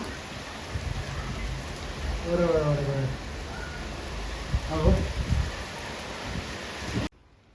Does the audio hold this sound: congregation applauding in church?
no